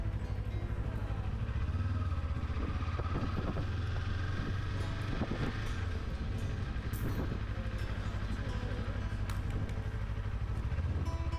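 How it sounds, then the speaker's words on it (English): A 2024 Kawasaki Ninja 500 parallel-twin exhaust drones steadily on the road, a continuous low rumble blended with heavy wind rush across the microphone, with no talking. "I don't mind the exhaust sound all that much"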